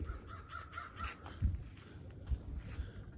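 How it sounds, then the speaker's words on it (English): Crows caw outdoors after a spring snowstorm, with a few short, separate calls rising from a low, steady outdoor background, moderately close and alone without talk. "Crows are out."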